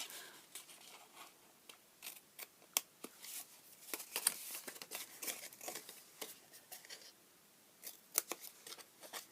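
Scissors snip off bits of paper and glue-covered card while an Easter flip-top box is crafted, quick close crisp cuts coming in irregular bursts, quiet and without talk.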